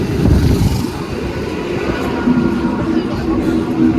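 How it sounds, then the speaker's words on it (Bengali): A train pulls into a station with a loud low rumble and rolling wheel noise, a faint squeal entering toward the end, while people talk nearby. "এসে গেল ট্রেনটা"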